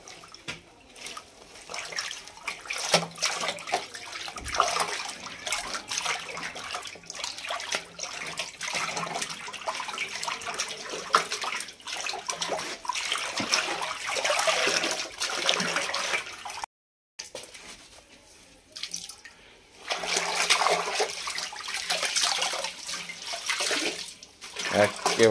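A naturally dyed sari is rinsed in water, giving irregular splashing and trickling that rises and falls with a brief pause, while a voice talks now and then.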